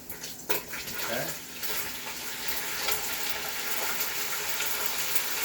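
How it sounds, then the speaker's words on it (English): Okra sizzling as it sautés in a pan for a seafood stew, a steady hissing fry that runs continuously throughout, with a brief clatter near the start as the pieces go in. "I'm going to saute my okra. So I'll go ahead and add them in."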